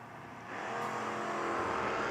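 A Camaro footbrake drag racing car launches at a drag strip. A steady engine drone jumps to a loud, sustained roar about halfway in and keeps building to the end.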